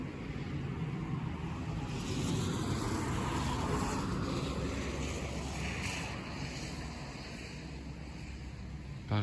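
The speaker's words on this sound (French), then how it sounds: "Et comme prévu, le renforcement du vent allant avec" Wind strengthens at sea as a squall line arrives, blowing as a steady broadband roar with gusty swells and buffeting against the microphone, and water rushes beneath it.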